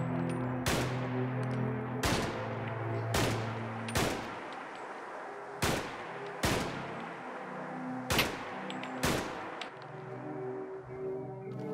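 Crude Blowback firing on a range in Fallout 4: eight sharp, loud shots spaced about a second or more apart, each ringing out briefly over a steady low ambient hum, with no talking.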